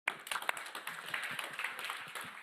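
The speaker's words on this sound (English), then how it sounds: "A round of applause, everyone." An audience applauds at the close of a panel discussion at a startup innovation awards final, with scattered nearby claps first and then a fuller, even patter of hands that carries on.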